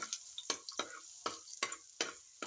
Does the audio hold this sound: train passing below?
no